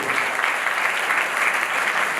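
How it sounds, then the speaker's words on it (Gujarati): Steady, dense applause from an audience at a motivational speech event at a tuition class in Mahuva, continuous clapping throughout with no voice over it. "સ્પેશિયલ તાળીઓથી વધાવો ભાઈ"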